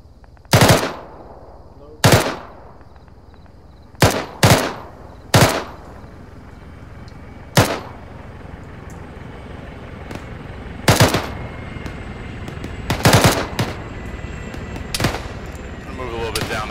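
Gunfire in the ShackTac Arma video game: about a dozen sharp single shots cracking at irregular intervals, some in quick pairs, over a quiet outdoor background hum.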